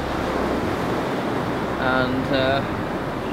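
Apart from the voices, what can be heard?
ocean waves crashing on a volcanic beach in Iceland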